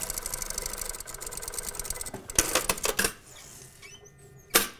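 A sewing machine stitches a slanted side pocket facing, a rapid mechanical rattling run that stops and gives way to a few sharp clicks and knocks, close and fairly quiet.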